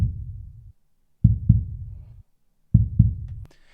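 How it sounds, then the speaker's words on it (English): Heartbeat sound effect for podcast theme music, deep low thumps in spaced double beats, lub-dub pairs separated by short silences, clean and isolated with nothing else in the mix. "I really want to do something with the heartbeats. They sound really nice."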